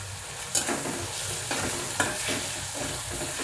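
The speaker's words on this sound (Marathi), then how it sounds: "आता परतू दे जरा ती चांगली आता ही चटणी आबडधोबड तर मी हा बटाटा ह्याच्यामध्ये परतून घेते" Steady sizzle of potato sautéing with hing and turmeric in a hot pan for batata vada, with a few sharp stirring scrapes cutting through the continuous frying hiss.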